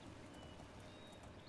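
Horse hooves clip-clopping in a video game: a quiet, steady run of hoof beats over a wash of broadband ambient noise.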